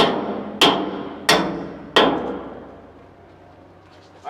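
A hammer strikes a steel bow plate during boat construction welding work, three sharp metallic blows in steady rhythm, each ringing out and decaying, close and loud with no talk.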